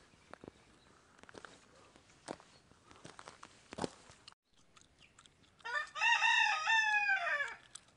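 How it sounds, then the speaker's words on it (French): Chickens cluck and scratch about nearby with scattered footsteps, then a rooster lets out one loud, clear crow near the end. "Oh, et les poules."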